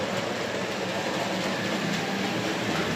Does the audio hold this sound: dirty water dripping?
no